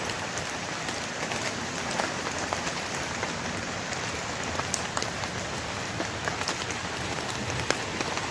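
Rain falling in a bamboo grove, a dense steady patter of drops on leaves and surfaces with scattered sharper ticks and taps throughout, no voices.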